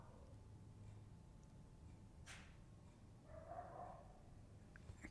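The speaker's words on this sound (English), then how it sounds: "It's my dog." A pet dog gives a brief bark or yelp partway through, set against a steady low indoor hum, with a short higher whine following, fairly faint and alone without talk.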